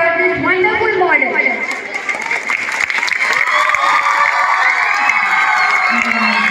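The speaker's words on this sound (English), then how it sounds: "Please make a huge round of applause for this wonderful model." Audience at a school event in Jhunsi, Prayagraj, breaking into loud applause and cheering, with claps and shouts filling the whole stretch while an announcer's voice carries over the crowd.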